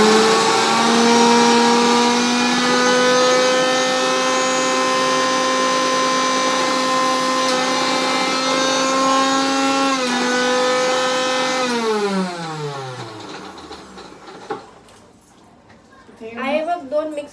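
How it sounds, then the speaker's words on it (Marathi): An electric food chopper whirs with a steady high motor whine while chopping onions, then winds down in a falling pitch and stops, with a voice briefly heard at the end. "याला चॉपर मध्ये हे करू"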